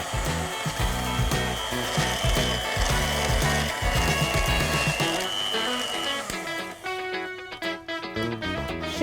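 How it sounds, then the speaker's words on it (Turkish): A mixer whirs and scrapes through chocolate cake batter with cocoa, a loud close grinding hum that shifts in pitch near the end. "Hepsini ekleyip tekrar karıştırıyorum."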